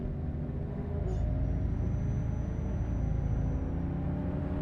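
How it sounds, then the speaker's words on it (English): A modded truck engine in a trucking video game rumbles steadily at low pitch, with a brief hiss early on and a faint high whine drifting across. "I've got a few sound mods that make the in-game sounds a little bit more realistic, the vehicle sounds and stuff like that."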